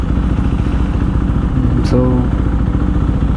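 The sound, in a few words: KTM Duke 390 motorcycle engine in city traffic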